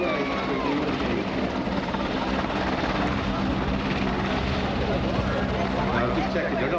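Royal Navy Leonardo Merlin helicopter at an air show, its rotor giving a steady, loud, close whirring roar with heavy downdraft rumble that holds constant throughout, a voice talking over it.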